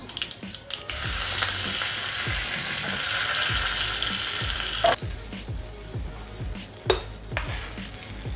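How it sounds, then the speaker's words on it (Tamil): Mustard seeds and curry leaves crackle and sizzle in a spoonful of hot oil, a bright continuous frying hiss dotted with sharp pops and spoon taps, loud and close. "கடுகு நல்லா பொரியுது"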